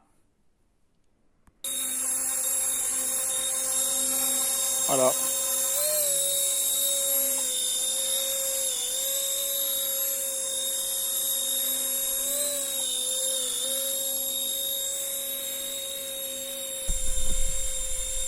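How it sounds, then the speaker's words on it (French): A high-pitched whining rotor hum from an RC model EC 145 helicopter starts abruptly and holds steady with slight pitch wobbles, close by, with a brief word spoken partway through. "Et ça vole et l'hélicoptère est stabilisé."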